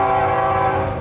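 A freight train on the line crossing an abandoned island naval base sounds its horn in a loud, steady, close-up blast with no talk.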